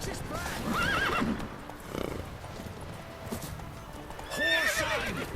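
A horse in The Witcher 3 video game whinnies twice, a shrill neigh near the start and another near the end, with hoof clip-clops and game sounds in between at moderate loudness.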